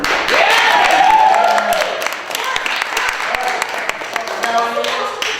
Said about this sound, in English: Can we get an applause for the worm?